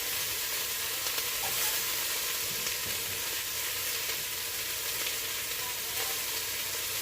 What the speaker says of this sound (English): Listen to that sizzle.